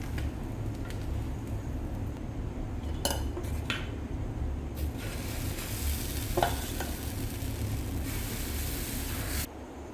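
A dosa cooks on a hot pan with a steady low sizzle, broken by a few sharp scraping and clinking touches of a utensil against the metal, close and without talk.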